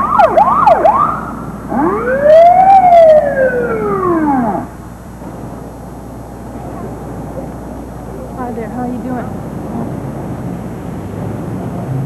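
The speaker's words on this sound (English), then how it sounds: "Suddenly a siren sounded behind me" An emergency vehicle siren wails, sweeping up and down loudly for several seconds behind a transit bus at an accident scene, then cuts off, leaving low traffic rumble with faint distant tones.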